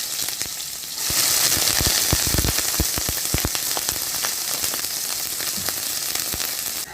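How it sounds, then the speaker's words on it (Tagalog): Chicken legs go into a pot of boiling water, and a dense bubbling, crackling roar swells in after a quiet moment and then holds steady, close and loud, with scattered pops and no voice. "my water is boiling. I'm going to mix in my legs of chicken."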